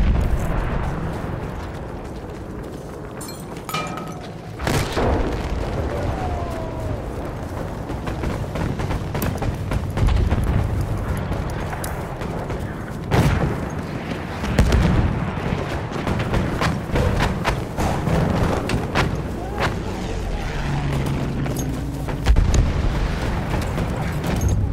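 Battlefield 1 battle on Monte Grappa with grenade blasts and deep booms amid steady gunfire and rumbling combat noise, loud and continuous for the whole stretch.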